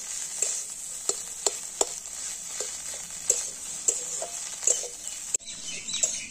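Potato is stirred into scrambled egg in a hot pan, a steady bright sizzle running under repeated sharp scrapes and taps of a spatula, close and alone with no talking.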